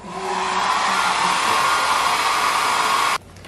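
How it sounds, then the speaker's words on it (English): A hair dryer blowing air to inflate an air mattress runs as a loud, steady close whir for about three seconds, then switches off abruptly, leaving a quiet room. "Oh, with an air hair dryer."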